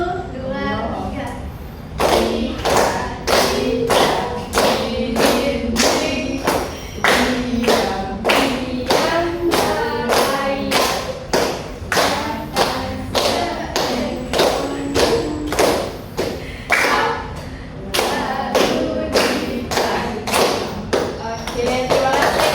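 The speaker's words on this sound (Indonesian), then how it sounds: "Ya, sambil tepuk tangan." Children in an Indonesian classroom clap in time while singing the song Cicak-cicak, a loud, even run of sharp claps roughly once a beat, close and continuous under their voices, with a brief pause partway through.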